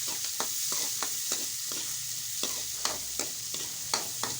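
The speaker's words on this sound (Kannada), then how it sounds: "ಈಗ ರೀ ಎಣ್ಣೆ ಕಾದತ್ತಿ ಕರಿಬೇವು ಹಾಕ್ತೀನಿ ನೋಡ್ರಿ. ಕರಿಬೇವು ಹಾಕಿ ಉಳ್ಳಾಗಡ್ಡಿ ಹಾಕ್ತೀನಿ." Curry leaves, onion and potato fry in hot oil, a constant bright sizzle close at hand, punctuated by regular clacking strokes of a spoon stirring against the pan.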